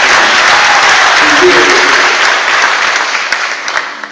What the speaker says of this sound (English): Let's applaud for all the volunteers